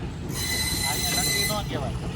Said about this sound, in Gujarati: ત્યાં રસ્તામાં ટ્રેન આવી ગઈ